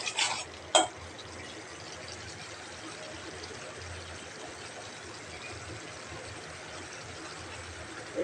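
Lotia dried fish (shutki) being sautéed in a pan gives a steady, low sizzle throughout, with a couple of sharp utensil scrapes near the start and no talking.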